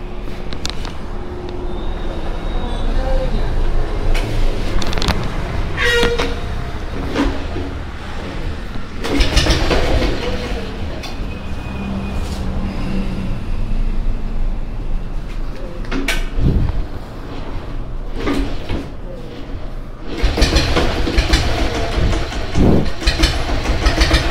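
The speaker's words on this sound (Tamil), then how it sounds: "இந்த வண்டியோட சவுண்ட் எப்படி இருக்குன்னு பாருங்கள்." Company diesel Bullet motorcycle from 1997 running steadily, a loud continuous low engine and exhaust drone with rhythmic mechanical clatter and a few sharp knocks throughout, with no talk.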